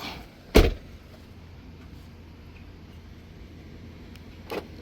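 A 2010 Mercedes-Benz E-350 car door shuts with one loud, close thud, followed a few seconds later by a shorter, softer lock chirp or click against quiet outdoor background.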